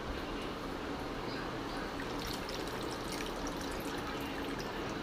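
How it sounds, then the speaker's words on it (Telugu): Water is poured a little at a time into a pan of fish curry (pulusu), giving a steady soft trickling and splashing that runs the whole time at moderate level, with voices talking quietly under it. "వాటర్ పోసుకొని ఇంకొంచెం పులుసు పోసుకుందాం."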